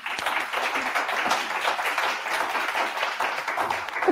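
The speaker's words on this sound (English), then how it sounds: "please help me give them a round of applause" An audience at an Emancipation Day celebration panel claps briskly for the guests, a short burst of moderately close applause with individual claps standing out.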